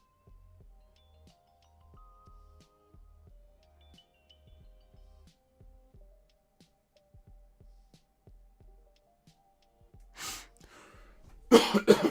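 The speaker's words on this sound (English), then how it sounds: "Sorry, coughing in you guys' ears." Quiet soft thumps tick along at first, then a short cough and a louder burst of harsh coughing near the end.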